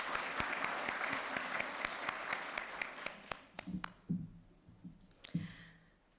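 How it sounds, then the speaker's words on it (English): Audience applause for sponsors and donors at a school district's Principal and Assistant Principal of the Year event, a dense round of clapping that thins out into a few scattered, separate claps near the end. "So let's give a round of applause to all of our wonderful sponsors and donors."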